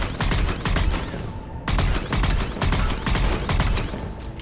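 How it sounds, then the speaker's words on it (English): Blood Pack SMG in Mass Effect 3 firing rapid three-round bursts, loud and close, as dense repeated volleys with a brief gap midway and no voices. "The Blood Pack SMG was so beastly."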